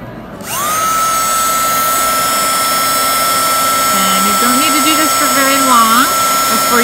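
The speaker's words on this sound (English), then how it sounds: "So I'm gonna take my heat gun" A heat gun blows hot air to emboss a craft project, switching on with a rising whine and then holding a loud, steady close roar while a voice speaks briefly underneath.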